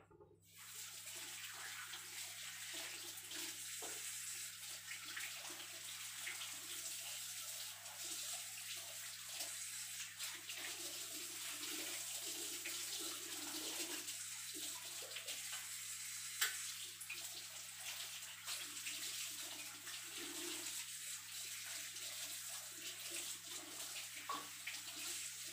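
Aloe vera leaves washed under a running tap: a steady, close hiss of water that runs without a break, with faint handling and splashing under it and a low electrical hum, no talk.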